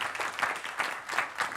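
A studio audience gives a round of applause for a Halloween-themed band on a late-night music show, a brief burst of dense clapping at moderate level.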